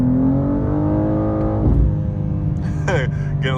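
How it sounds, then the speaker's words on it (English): A BMW M2 accelerating hard in second gear, its engine note rising steadily up close before a shift, with a person speaking over the end. "it's not an M2 video without some sort of acceleration. Let's try, we'll do second gear."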